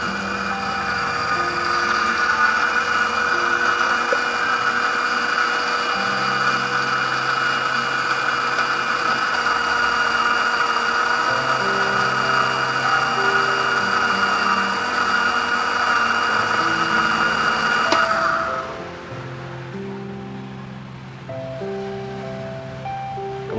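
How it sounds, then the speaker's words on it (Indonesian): Ingredients for homemade photosynthetic bacteria organic pesticide are ground in a blender. A loud, steady whirring runs for about eighteen seconds and then cuts off abruptly, leaving background music playing on. "Kita giling sampai benar-benar halus ya."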